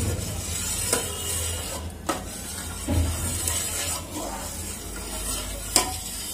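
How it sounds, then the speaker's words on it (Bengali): A homemade hand wash mixture of melted base and water is stirred continuously in a pot over a full flame. A low bubbling hum runs under soft scrapes and occasional sharper clinks of the spoon against the pot. "এটাকে সমানে নেড়ে যেতে হবে যাতে তলাটা না বসে যায়"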